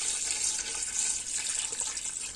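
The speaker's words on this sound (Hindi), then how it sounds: "पानी ऐड करेंगे बीच में हम" Water is poured into a pot of beef trotters for paya, a soft continuous splashing stream lasting a couple of seconds, fairly faint and with no talking.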